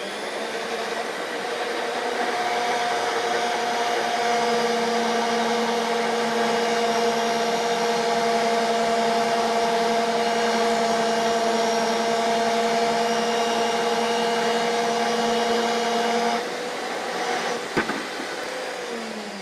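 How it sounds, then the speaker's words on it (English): A RIDGID 535M threading machine turns while its cutter works through a pipe, a steady motor hum with tonal whine that stops abruptly near the end, followed by a brief clunk. "I'm going to turn this half turn at a time until it cuts through the pipe."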